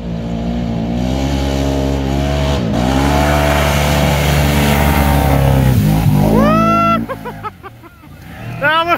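Sherp amphibious ATV driving through water on a moose hunt, its engine held at loud steady revs with a rising burst near the end, a voice talking over the drone.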